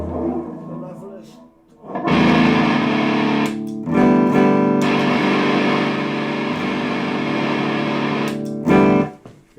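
An electric guitar runs through a distortion pedal, loud, thick and saturated, with sustained chords that cut off twice into brief gaps before ringing out again and stopping.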